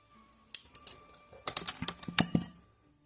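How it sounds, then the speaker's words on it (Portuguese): Scissors snipping yarn after amigurumi crochet work on a Christmas reindeer toy, a handful of quick close clicks and cuts in short clusters, with no talk over them. "E vou cortar o meu fio."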